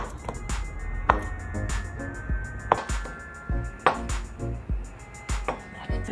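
A knife chops an ingredient into thirds for spicy Korean sausage stew, with sharp board knocks that come irregularly, about a dozen close cuts with short pauses between them and no talk.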